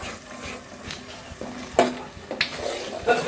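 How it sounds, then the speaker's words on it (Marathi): A ground spice paste fries in oil in a pan with a soft, steady sizzle, while a spoon stirs and scrapes it in irregular knocks close by. "आता हे सगळं वाटण आहे ना आपण सगळं तेलावर छान असं परतून घेऊया"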